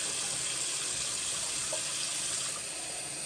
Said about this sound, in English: I'm just going to go ahead and fill the jars halfway with hot water